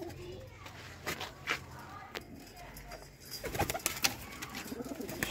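Pairs of cross-bred pet pigeons coo softly in a loft, with faint, intermittent low calls under nearby speech and children's voices.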